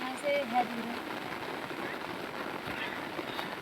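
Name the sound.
rain falling in forest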